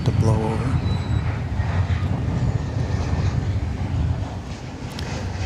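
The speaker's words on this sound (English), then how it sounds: "Here's a Frontier flight from Phoenix, Arizona. It's an Airbus A320 Neo." Airbus A320neo jet of Frontier Airlines, arriving from Phoenix and seen at DFW Airport, gives a steady loud low roar of engine noise with wind buffeting the microphone throughout.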